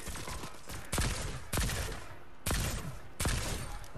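Gunfire in the Fortnite video game: loud, close bursts of rapid shots come in several separated volleys, each one hard-edged and rattling, with no talk over them.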